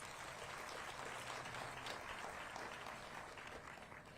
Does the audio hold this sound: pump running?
no